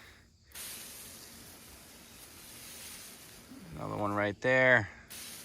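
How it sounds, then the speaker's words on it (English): A herbicide sprayer mists invasive plants, bittersweet vine and Japanese barberry, outdoors on a property, producing a continuous soft hiss that runs throughout, with someone speaking briefly near the end. "I try to avoid the overspray as much as I can, but it's difficult."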